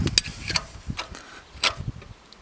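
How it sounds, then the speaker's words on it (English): The center bolt of a pulley puller turns on a Ford Taurus SHO engine, making irregular close metallic ticks and ratcheting clicks in short, uneven bursts. "I should be able to just turn this center bolt and it should pull off"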